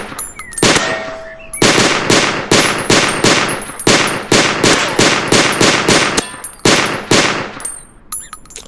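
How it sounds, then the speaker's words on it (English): Video-game gunfire at a shooting range cracks out in sharp, loud repeated bursts, some single shots and some rapid strings, with brief gaps between volleys and no talking. "Shooting at the shooting range?"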